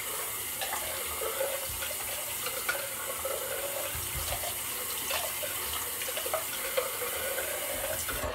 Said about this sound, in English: This is cold water rinse too